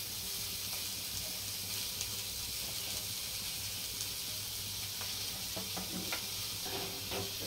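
Onion stirred as it fries in oil for a Marathi-style spicy surmai (kingfish) curry, a steady soft sizzle and hiss with occasional faint scrapes of the spoon, moderately quiet throughout with no voices.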